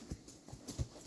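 A pony's hooves clip-clop at a slow walking pace, a few soft, muffled steps heard close by.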